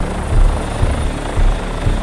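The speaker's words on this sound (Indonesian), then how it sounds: "Dia langsung berangkat dengan menggunakan sebuah helikopter." A loud, close helicopter with a rhythmic low thumping of rotor blades over a broad engine roar, cutting off abruptly at the end.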